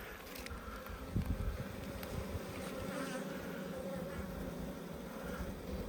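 Honeybees buzz around an opened Hornsby hive in a steady, dense drone, close and continuous, with a brief knock of handling early on.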